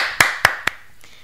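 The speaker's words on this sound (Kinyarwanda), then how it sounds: "Ndumva namukomera amashyi uyu mwami w'amahoro." Three sharp, evenly spaced hand claps ring out close and distinct in a church service, then stop, leaving a faint tail.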